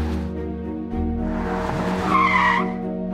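Cartoon car chase effect with a loud screeching tire skid rising over a droning engine, the squeal peaking near the end of a roughly three-second burst.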